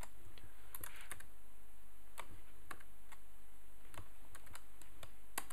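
Keystrokes on a computer keyboard entering an Emacs key chord, a handful of sharp separate clicks spaced irregularly over a quiet background hum, with no voices.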